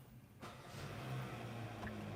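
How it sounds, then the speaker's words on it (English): A 2025 Kia Sportage X-Line Limited engine starts up, its steady mid-range hum rising and settling into a smooth idle, heard from inside the cabin at a moderate level. "Now I'm going to turn the vehicle on quickly."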